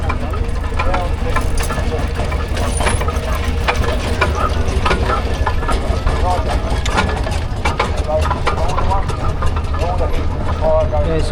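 A miniature McLaren showman's steam engine with a generator on its front runs in a show arena at a rural event. It makes a steady, dense mechanical churn that continues throughout, with people talking and crowd noise mixed in.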